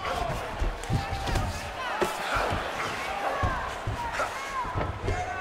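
Arena crowd roaring during a UFC 5 fight between Israel Adesanya and Vitor Petrino, a dense continuous cheer with scattered thuds of strikes, under a commentator's voice.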